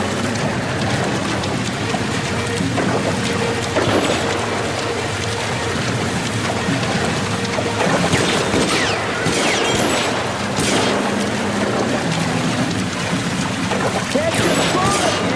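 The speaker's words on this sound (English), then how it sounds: "The water's rising." In LA Noire, rising floodwater rushes loudly and without a break, a dense roaring wash that fills the whole stretch, with voices talking over it.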